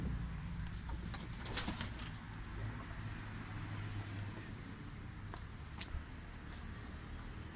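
Soft tumbler pigeon cooing and occasional wing flutters over a low rumble of background noise, with sharp clicks and taps scattered throughout.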